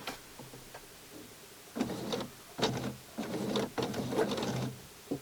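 A sewing machine stitches the armhole of a small Barbie doll dress in short bursts, its rapid mechanical chatter starting and stopping several times with brief pauses in between, close and clear.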